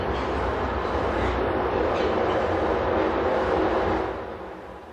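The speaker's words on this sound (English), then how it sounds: "There is a train, sir." A train rumbles past the outdoor 1969 public discussion gathering in Saanen as a steady, broad roar that holds for about four seconds, then eases off slightly; no one speaks over it.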